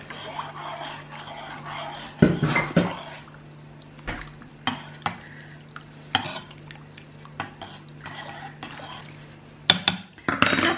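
Homemade hand soap being stirred together with aloe gel in a bowl: a utensil scrapes and clinks against the bowl in irregular bursts, with quiet gaps between strokes and a faint steady hum behind.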